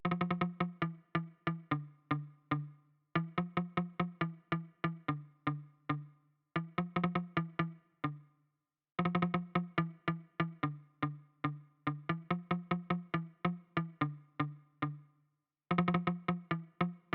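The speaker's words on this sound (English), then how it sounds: "into another track, which is basically the muted guitar, and they sound like this." Muted guitar track playing short, choppy plucked notes in quick rhythmic bursts, separated by brief gaps, clean and close with no voices.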